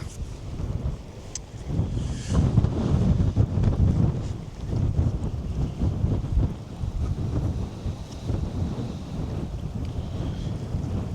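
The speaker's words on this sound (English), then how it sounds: "So this is going to be very blowy, I think." Strong wind blows hard in far northern Britain, rumbling and buffeting against the microphone in uneven gusts that swell and ease without letting up.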